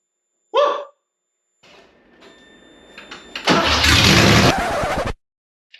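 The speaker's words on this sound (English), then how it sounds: "I am finally going to try to start this 1977 911S." A 1977 Porsche 911S with open headers and no muffler cranks and catches, roaring loudly and raw for under two seconds before cutting off abruptly. A brief sharp burst comes earlier, then quiet shop noise.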